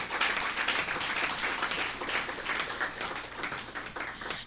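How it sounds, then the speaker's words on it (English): Conference audience applauding a keynote speaker at an opening ceremony on intellectual property and creative industries; a sustained round of many hands clapping, fairly close and even, with no talk over it. "Another round of applause for our keynote speaker."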